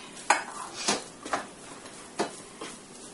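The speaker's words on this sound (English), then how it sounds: "And I'm going to mix it" A spoon scrapes and clacks in a pan while browned ground beef is mixed with garam masala, five or six separate stirring strokes, faint and close, over a soft sizzle.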